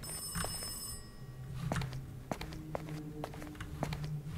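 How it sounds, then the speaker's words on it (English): A telephone rings inside an apartment in a horror video game, with high repeated bell-like tones over a low ambient drone and scattered footstep-like thuds, set well back in the mix. "Whose phone is that?"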